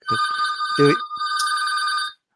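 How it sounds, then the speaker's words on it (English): A landline telephone rings loudly and close by, a steady electronic trill in two long bursts separated by a brief break, with no voices over it. "And so a real landline ringing."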